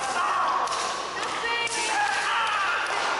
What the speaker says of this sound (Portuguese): Vai abrindo aí a sua metralhadora de chops.